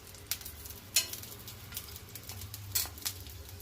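Green chillies and coconut frying in an oil-filled pan give a low steady sizzle, with sharp crackling pops bursting out every so often, close up and with no voices.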